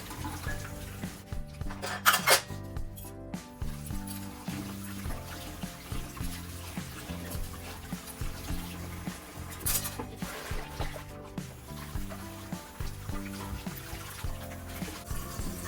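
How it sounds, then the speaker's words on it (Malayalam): Dishes being washed in a sink under a running tap: steady water flow with frequent clinks and knocks of pots, plates and cutlery, close and fairly quiet, no talking. "കുറേ പാത്രങ്ങളുണ്ടായിരുന്നു കഴുകാനായിട്ട്"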